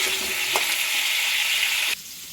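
Potatoes frying in a pan, a bright continuous sizzle with a brief clack near the start, the hiss dropping sharply in loudness shortly before the end.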